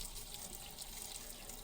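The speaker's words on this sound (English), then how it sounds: "And then after you change it, just run the water." Tap water runs steadily through an InSinkErator F-201R replacement filter cartridge into a sink, a continuous close hiss of flowing water with no talking.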